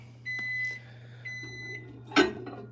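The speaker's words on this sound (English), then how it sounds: "Beep, beep, beep." An electronic appliance signalling it has finished, giving two steady tonal beeps a second apart over a constant low hum, followed by a short sharper clunk, close up and with no speech.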